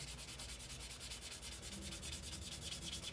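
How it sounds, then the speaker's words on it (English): Soft, rhythmic rubbing strokes of a small 800 to 1000 grit sanding sponge smoothing a Tamiya 1:24 Nissan Silvia model kit body scrub back and forth close up, steady and even, with no talking. "take a small soft sanding sponge, probably in the neighborhood of 800 to 1000 grit"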